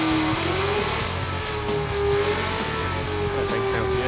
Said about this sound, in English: let's take a look at this burnout here